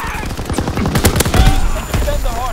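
Call of Duty WW2 Hardpoint match on Winter Carentan: a loud, close machine gun fires in rapid, steady bursts, mixed with other gunfire and battle noise throughout.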